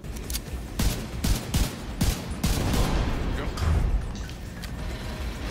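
Bursts of rapid gunfire with booming impacts crackle through a dense, loud mix of video game boss-fight action, with a voice faintly underneath.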